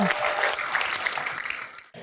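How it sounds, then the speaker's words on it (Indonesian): An audience at a television talk show breaks into steady, dense applause that continues throughout, ending abruptly before a brief resumption. "Iya, tepuk tangan"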